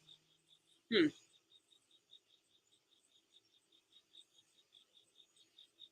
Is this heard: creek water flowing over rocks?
no